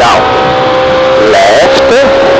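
A Ferrari 458 Italia engine roars loud and close on the Red Bull Ring, its pitch climbing and then dipping sharply twice as it shifts gears under acceleration.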